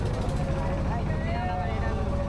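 A trawler boat engine drones on a river in a low, steady, close rumble with a clear hum, and a voice talks over it.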